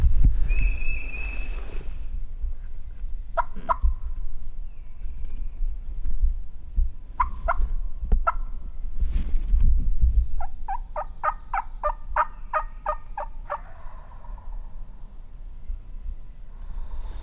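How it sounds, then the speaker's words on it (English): A wild turkey gobbles out in the woods during a public-land hunt, with several rapid rattling gobbles heard at a distance against low rumbling background noise. "while this turkey's gobbling pretty good"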